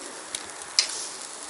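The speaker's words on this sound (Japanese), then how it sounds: "玉ねぎを炒めます。 玉ねぎ、オリーブオイルで。" Chopped onions fry in olive oil in a pot at a campsite, a steady close sizzle with a brief sharper crackle and a light tap of stirring, no talk.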